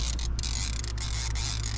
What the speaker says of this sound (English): Are you cranking? Yeah, I'm cranking.